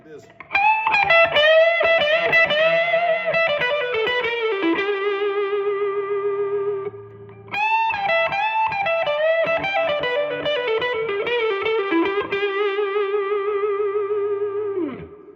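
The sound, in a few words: 2020 Gibson R9 1959 Les Paul reissue electric guitar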